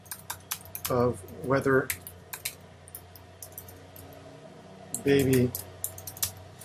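Computer keyboard typing, a scatter of crisp close key clicks in short bursts and single taps, heard alongside a person speaking intermittently.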